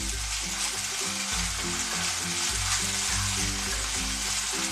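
Ginger garlic paste frying with onions in a pan, a bright steady sizzle under a few dull stirring thumps, close and continuous with no talking.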